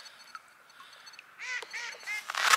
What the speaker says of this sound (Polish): I kaczka nas wyśmiała.